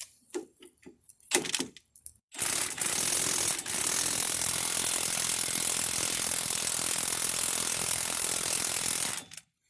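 An impact wrench whirs steadily and loudly for several seconds after a few short bursts and clicks, then stops, during a car front-end rebuild.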